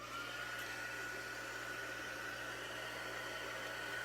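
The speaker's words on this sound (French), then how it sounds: "je vais reprendre dans le fond mon pistolet chauffant pour venir chauffer ça" A heat gun blows on a watercolour background on a card, producing a steady airy roar with a constant whine, even and unbroken throughout.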